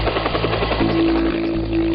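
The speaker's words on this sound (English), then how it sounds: "On cue, the extraction chopper arrives and the teams are uplifted with all on board." An extraction helicopter arrives for a special forces patrol, its steady low rotor thrum and engine drone filling the scene continuously, loud and close with no talk over it.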